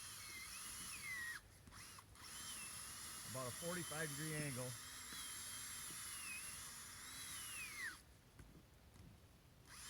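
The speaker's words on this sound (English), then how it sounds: "I drill my hole in" A power drill bores a hole into forest ground while setting a coyote trap in the northern Michigan woods, a loud continuous high whine that cuts out twice briefly, with someone speaking over it.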